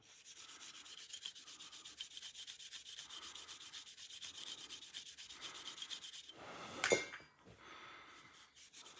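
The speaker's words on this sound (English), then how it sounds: "which I'm just going to do by just giving it a little run over with some Scotch-Brite" Scotch-Brite pad rubbed over Sig Sauer P226 grips, a steady close scratchy scrubbing in quick repeated strokes, with a brief sharper scrape near the end before the rubbing eases.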